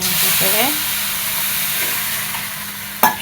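Semolina (suji) toasting in a pan on the stove, a soft steady sizzle and hiss with a few scraping stirs and a sharp clatter near the end, no one speaking.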